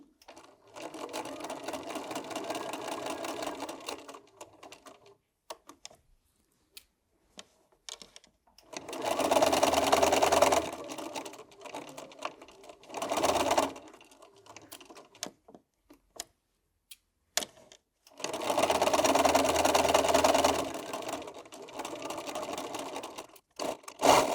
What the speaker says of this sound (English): I'm now going to machine a 1/4 inch seam